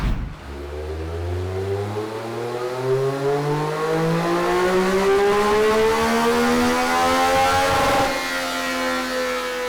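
A Triumph Speed Triple 1200 motorcycle engine revs up through the gears in one long, loud, close acceleration, pitch climbing steadily with a brief shift near the end; no voices.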